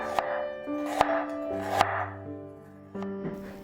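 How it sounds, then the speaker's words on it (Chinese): Knife slicing fresh ginger on a board, three or four crisp chops spaced about a second apart, heard close over steady background music. "生姜切片"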